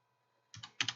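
Typing on a computer keyboard: four quick, crisp key clicks in two close pairs, near and clear after a brief silence.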